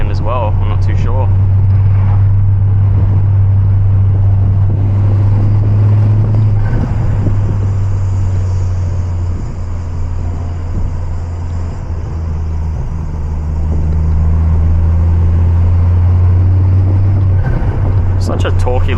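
Ford Focus ST/XR5 MK2 turbo hatchback driving along a forest road, a loud steady engine drone with wind and road rumble from inside the cabin, rising and easing slightly as it cruises.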